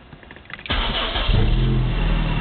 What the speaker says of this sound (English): And then when I start the car